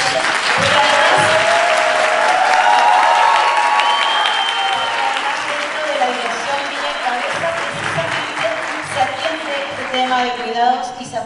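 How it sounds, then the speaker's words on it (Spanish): An audience at a summit and congress in Zapopan applauds a woman as she is introduced to speak on local care systems. The clapping is loud and sustained, with crowd noise and cheering mixed in, and voices run underneath before it thins toward the end. "un especial aplauso"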